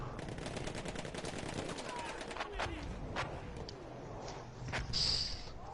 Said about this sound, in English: that artillery is devastating